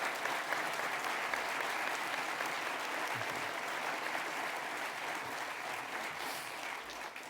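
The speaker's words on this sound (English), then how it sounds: "let's give them all a round of applause" Sustained, even applause from a large audience in a hall at a university state-of-the-address event, honoring standing campus presidents; steady and moderately distant, with a low murmur beneath.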